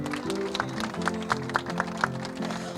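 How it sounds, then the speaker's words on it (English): Wedding guests clap at a reception during the speeches, a scattered crowd patter under steady music with several sharper hand claps standing out. "Give her a clap."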